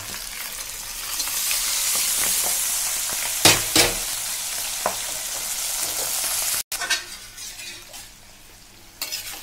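Potato and spices sizzle steadily in hot oil with Bhetki fish bones, a continuous close frying hiss broken by a few sharper stirring scrapes and a brief cut near the end.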